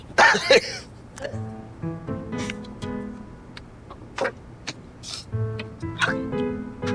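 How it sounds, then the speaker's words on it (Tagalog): Several short, sharp coughs and throat clearings break out at intervals, close by, mixed with some light clatter and faint murmured voices. "medyo inuubo pa rin ako"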